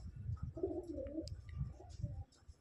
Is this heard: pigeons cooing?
yes